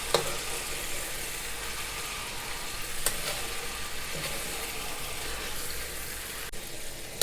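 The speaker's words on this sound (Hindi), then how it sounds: "अब हमारे अंडे भी इसके अंदर अच्छी तरह से फ्राई हो गए हैं" Eggs frying in a pan while chicken fried rice is cooked: a steady, loud hissing sizzle that continues without a break, with a few faint clicks of a utensil and no talk.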